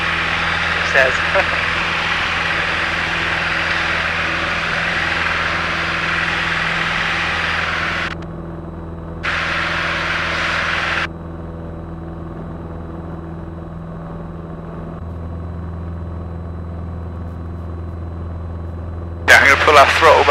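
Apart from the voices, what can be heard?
light aircraft engine climbing after takeoff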